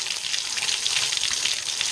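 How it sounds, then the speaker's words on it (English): Fresh water flushing through a car engine block's cooling system, a steady close-up hiss and gush of running water that continues evenly without a break. "I'm just flushing this out now. I'm putting fresh water in"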